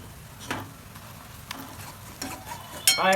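A boiled egg bhurji with black chilli powder is stirred and mixed in a pan, giving a soft continuous sizzle with occasional scrapes and clacks of the spoon, ending in a louder clatter, heard up close without any voices.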